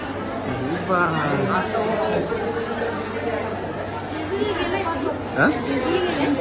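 Steady crowd babble echoes inside a crowded temple at Jejuri, many overlapping voices blending into a continuous hubbub, with occasional nearer voices standing out briefly.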